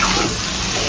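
Dried fish curry with chili sautéing in a pan, a dense, loud, close sizzle with faint stirring, steady through the short stretch with no speech.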